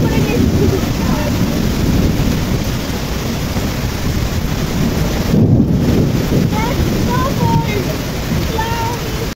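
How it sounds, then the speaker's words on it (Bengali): Heavy rain pours outdoors in a park during a thunderstorm with lightning, a loud, constant broadband rush with wind buffeting the microphone and faint voices in the background. "ঝমঝমিয়ে বৃষ্টি এসছে, ঝমঝমিয়ে কি বলবো, এত মানে বৃষ্টি পড়ছে যে কিছু করার নেই।"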